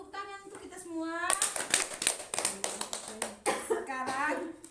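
Participants at a training session break into a burst of clapping in a room, loud, quick claps for a couple of seconds with voices speaking before and after.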